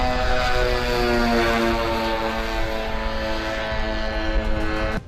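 A Hezbollah attack drone flies past with a loud, steady propeller-engine drone, its buzzing tone holding unbroken and close throughout.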